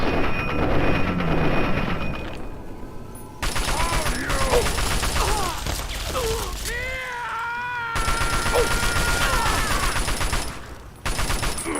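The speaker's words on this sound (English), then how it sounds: "That's a minigun." A minigun in Fallout fires in long, rapid, continuous bursts, loud and close, with brief pauses between strings of fire amid other game sounds.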